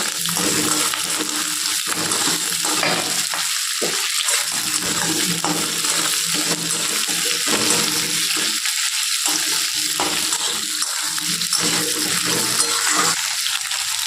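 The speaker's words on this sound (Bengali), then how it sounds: "ক্যাপসিকামগুলো হালকাভাবে আমি ভেজে নেব।" Capsicum pieces fry lightly in a pan for a fish roe curry, a continuous close sizzle with soft intermittent stirring and scraping throughout.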